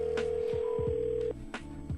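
A telephone call held to a speakerphone on live radio, with a long steady electronic tone and short clicking, dialing-like blips before and after it.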